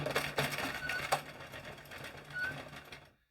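A 46 or 48 pin circular knitting machine is cranked by hand, producing a busy, rapid clicking and rattling that runs steadily, then stops abruptly.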